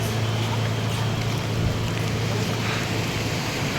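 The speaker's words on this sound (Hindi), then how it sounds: "बारिश हो रही है" Steady broadband hiss of heavy rain pouring at Kedarnath, constant and enveloping, with a low rumble underneath and no clear speech.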